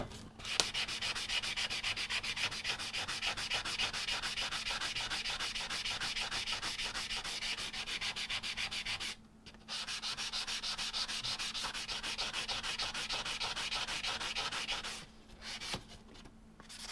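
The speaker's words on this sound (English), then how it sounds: "I'll just do some light sanding on it with a 60 grit pad" Rhythmic abrasive sanding on a forged steel knife blade with a 60 grit pad, a fast scratchy back-and-forth rasp held steady and close, with two brief pauses and no talking.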